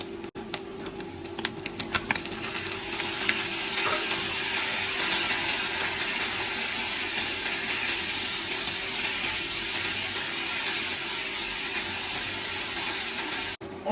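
Bitter gourd and potatoes drop into a pan of frying onion and fish, a few sharp clatters giving way to a steady, loud sizzle that hisses on unbroken.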